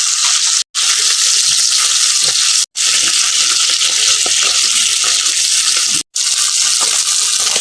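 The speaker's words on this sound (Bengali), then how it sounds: "মাছগুলোকেও একদম একইভাবে ভেজে নিচ্ছি" Small pabda fish fry in hot oil, a loud, steady, close sizzle that runs on without letup, cut by three brief silent breaks.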